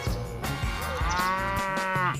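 A cow gives a single loud, drawn-out moo, close and clear, with nothing else heard.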